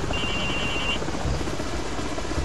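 Helicopter in the Call of Duty Modern Warfare Reflex video game, a steady rotor and engine drone with a thin whine early on, continuous and fairly loud.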